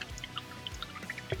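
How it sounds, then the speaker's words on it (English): A paintbrush rinsed in a pot of water after painting tabletop wargaming miniatures, with soft close drips and small sloshes over about a second and a half. "Once you're finished, then you just wash your brush out"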